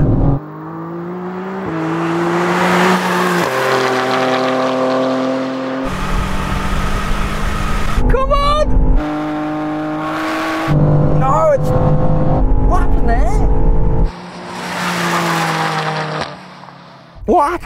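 Two tuned BMWs, an XM Label Red and an M4 CSL, race side by side in a drag race, loud engines climbing through the gears with shifts, tire noise and a steady high-speed roar, with voices talking over them.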